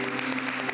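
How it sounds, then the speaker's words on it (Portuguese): Church congregation clapping together for a brief moment during a worship service, a dense, steady patter of many hands at moderate level with a faint tonal hum running underneath. "Você pode aplaudir o Senhor Jesus?"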